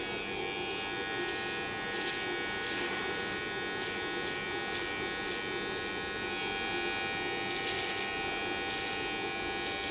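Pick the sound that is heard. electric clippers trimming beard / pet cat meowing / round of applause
electric clippers trimming beard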